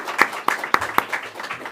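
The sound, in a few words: audience round of applause for speakers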